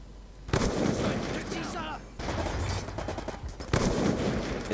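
Sniper rifle quick-scope shots in Black Ops 2, three sharp, loud cracks spaced about a second and a half apart, each followed by a rumbling game soundscape.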